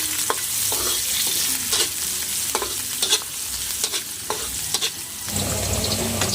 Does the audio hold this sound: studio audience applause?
no